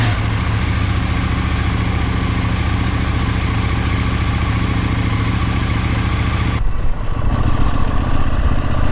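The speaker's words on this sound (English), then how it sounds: "I have noticed on the bike when I start it, the tick over from cold is not the smoothest." A cold KTM 790 Adventure motorcycle idles roughly and hunts a little, a loud, close, continuous engine rumble that drops off abruptly near the end.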